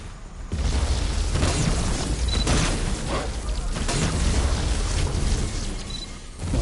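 Frag grenade explosions in a video game, a sustained rumbling boom that starts abruptly and rolls on with dense blasts, loud throughout, and a couple of faint high tones.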